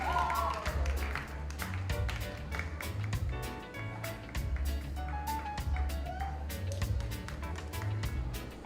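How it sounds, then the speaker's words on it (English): Applause from an audience at a performing arts awards ceremony, a steady patter of many hands clapping at moderate distance over a low sustained hum, continuing without break. "Keep that applause going"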